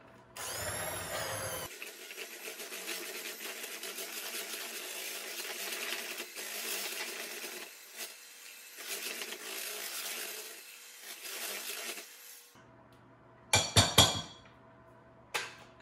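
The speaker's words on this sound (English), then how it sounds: "Now, I'm going to use my mixer, and it's going to be loud." An electric kitchen mixer whirring in several bursts, high-pitched and buzzy, blending eggs into pumpkin pie filling, stopping and starting, then a few clinks of metal against a bowl near the end.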